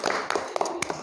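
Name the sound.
group clapping hands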